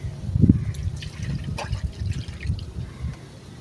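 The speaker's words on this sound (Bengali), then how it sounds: "এর মধ্যে আমি আরেকটু জল দেব মশলা ধোয়ানো বাটি ধোয়ানো জল" Spice-rinsing water poured from a bowl into a spiced batter for village-style bori bhapa, a soft close trickle and splash with light liquid dribbling throughout.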